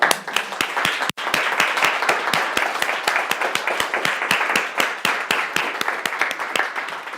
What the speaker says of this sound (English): how about we give a big round of applause for MailerLite to making this seminar freely available to you all